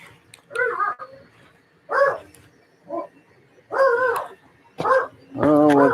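A dog barks in a home workshop, six separate loud close barks spaced about a second apart with quiet gaps between them.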